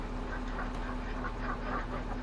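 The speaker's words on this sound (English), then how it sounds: "Let's have another quick look at the ducks though." Ducks on a farm in the video game Farming Simulator 22 give repeated soft quacks over a steady low electronic hum, several calls spread evenly through the short stretch.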